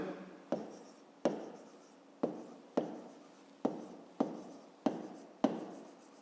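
Pen strokes on paper for a fifth-grade maths exercise, written by hand in eight distinct scratchy bursts, each starting sharply and trailing off, close and clear with no talking.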